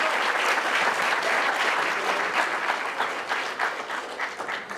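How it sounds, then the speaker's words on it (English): Sustained applause from a retirement party audience, dense and steady throughout, easing slightly toward the end, with no voices standing out. "Let's have another big round of applause"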